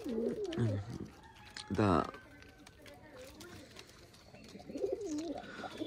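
A male pigeon coos in low, rolling phrases near the start and again near the end, with someone talking over and between the calls.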